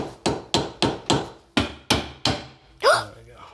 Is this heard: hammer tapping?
yes